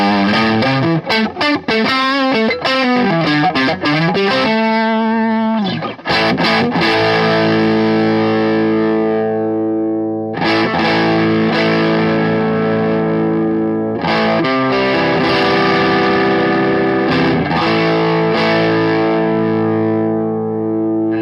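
Electric guitar driven through an overdrive pedal, either a Boss OD-1 or SD-1 or an Ibanez TS808 or TS9, playing gritty chords and sustained notes with a brief break, loud and continuous with no talk.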